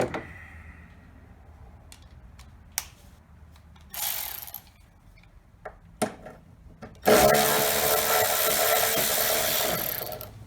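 A 12 millimeter bolt on a car engine mount is worked loose with a ratchet, giving a few sharp clicks and bursts. A long, loud spinning whir follows as it is run out, heard close with no talk.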